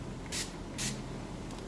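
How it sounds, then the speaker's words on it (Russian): A spray bottle of perfume gives two short, close hissing bursts about half a second apart, each a quick puff of mist over a quiet background. "И когда мы наносим этот спрей на туалетную воду"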